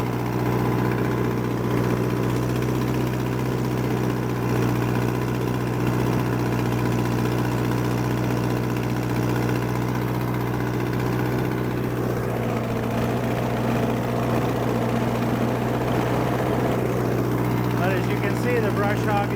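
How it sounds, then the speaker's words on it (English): An Allis D14 tractor in low gear drags a brush hog through high weeds with a steady, laboring engine drone, and a voice talks over it. "The tractor barely wants to do it in low gear."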